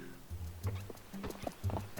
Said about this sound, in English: riding a horse very quickly over a bridge like that would just be very nerve-wracking